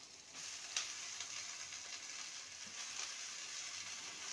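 Washed, drained and cut note shak greens hit a frying pan of already fried vegetables for shaker chochori, raising a steady, close, hissing sizzle that continues without break.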